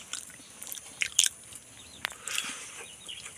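Bites and chewing of breadfruit, a few crisp crunches and soft mouth sounds spaced irregularly over a quiet background, close and fairly faint.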